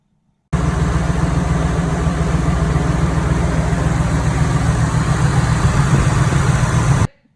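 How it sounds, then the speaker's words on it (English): A Toyota UZ-series VVTi V8 engine, repaired after a camshaft seal replacement, starts abruptly and runs at a steady, smooth idle, a loud, even low rumble that holds for several seconds before cutting off. "this is what the engine sounded like after he'd fixed it"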